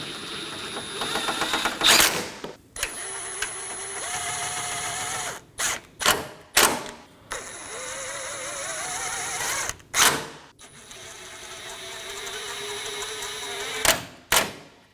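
Bolts on a Dodge Durango crossbar being snugged down with a ratchet or power driver in the engine bay: sustained whirring runs of tightening broken by short clicks and knocks, close and fairly loud, with no talking.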